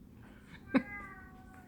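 A single short cat meow, fairly close and clear, rising out of a quiet room with soft background hum.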